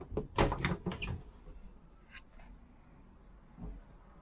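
The wardrobe door of a 2005 Fiat Ducato CJ 7-berth motorhome is opened, giving a few quick clattering knocks and a scrape close by, then a quieter creak and a faint soft bump as things settle.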